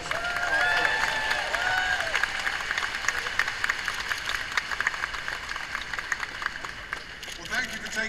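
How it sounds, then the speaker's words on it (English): An audience at a May Day celebration applauds steadily, a dense wash of clapping that runs throughout, with a voice or cheer rising briefly at the start. "So please, a round of applause."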